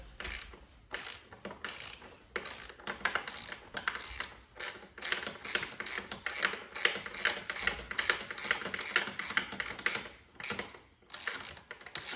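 Ratchet wrench with a 32mm socket clicking steadily while breaking loose the oil filter housing on an MK5 Jetta TDI, a rapid run of close, loud metallic pawl ticks with brief pauses, no talking.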